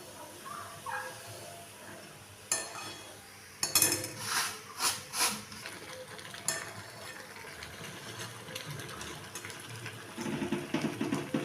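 Semolina being stirred in a metal pan for rava kesari, with a spoon scraping and knocking against the pan in a burst of clatters, then softer continuous stirring and a faint sizzle.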